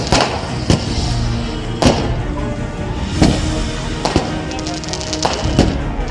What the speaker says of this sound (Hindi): ऐतिहासिक जीत होने पर अजमेर में बीजेपी कार्यकर्ताओं ने आतिशबाजी की